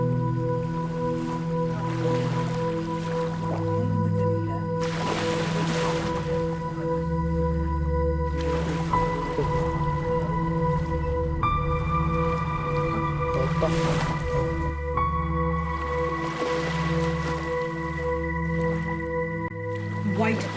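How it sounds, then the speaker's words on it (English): Rough sea waves splash and churn against a cruise ship in strong wind, a continuous loud wash with periodic surging bursts, mixed with steady tonal hum from the ship. "White foamy waves splashed near the ship, twisting and dancing violently."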